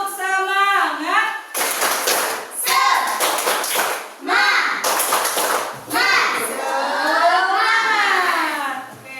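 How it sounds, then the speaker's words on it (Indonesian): Schoolchildren in a third-grade classroom perform a rhythmic clapping chant, sharp claps interleaved with bursts of children's voices chanting together, close and lively with a teacher's voice at the start. "Tepuk semangat."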